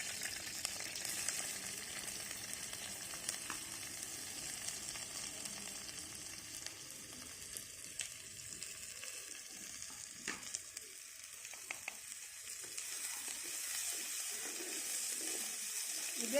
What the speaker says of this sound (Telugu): ఈ బీరకాయ తొక్క బాగా ఫ్రై అవ్వాలి.